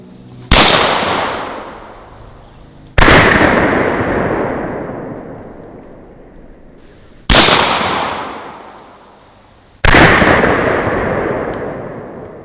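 Four loud 12 gauge shotgun blasts are fired at soda cans outdoors, each a sharp crack followed by a long rolling echo, spaced a few seconds apart.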